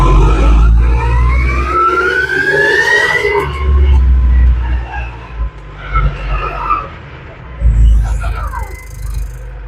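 JoyT5 JT5WL2500 wheel loader backing up on wet, muddy ground, a loud engine drone with a rising whine and rumbling low end, shifting in level as it moves, with a voice heard partway through.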